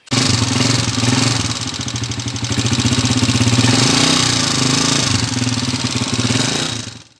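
A black TMX 155 motorcycle engine runs steadily and loud up close, its idle swelling slightly in the middle before settling, with no voices over it.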